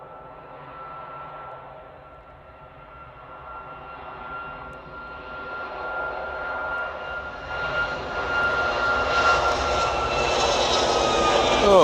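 Ryanair Boeing 737 Max jet airliner engines spooling up, a broad roar with a steady whine that swells steadily louder and nearer over the span, alone without talk.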